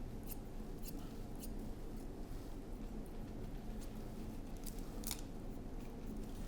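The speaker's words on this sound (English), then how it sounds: "We're just going to cut." Scissors snip through hair during a haircut for voluminous curls, a series of faint, quick crisp cuts in irregular bursts over a quiet background hum.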